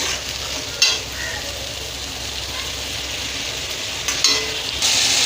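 Spice paste, mixed in water beforehand, being stir-fried in oil for a vegetarian soybean and potato curry, giving a loud, continuous sizzle with a few thumps from stirring. It is heard up close with no voices.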